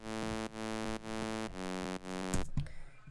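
A bass line plays on an initialized Serum software synth as buzzy, bright sawtooth notes repeating evenly about twice a second. It is fairly quiet and ends in a brief, messier burst.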